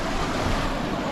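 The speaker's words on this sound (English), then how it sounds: "I'm not sure if this is how much water usually comes down the river." River water runs high after heavy rain and flooding, producing a dense, even roar that stays constant and close for the short moment.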